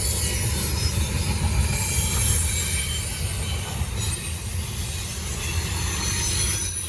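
A Norfolk Southern freight train pulled by C6M locomotives rolls past close by. Its wheels squeal steadily and rumble over the rails in a continuous, fairly loud wash of noise with no voices.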